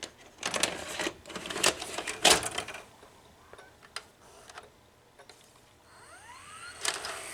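A Mitsubishi stereo Hi-Fi VCR takes in a tape, with a run of sharp mechanical clicks and clunks from the loading mechanism, then a rising whine as the heads spin up near the end, close and fairly quiet, no talk.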